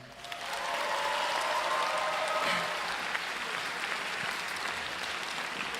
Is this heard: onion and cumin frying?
no